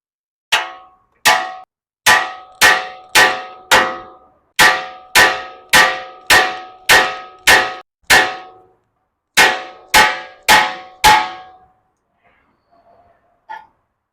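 A hammer strikes the lower ball joint on a 2000-2007 Toyota Sequoia or Tundra, about sixteen sharp, ringing metallic blows in a steady rhythm with one brief pause, loud and close, then a faint clink at the end.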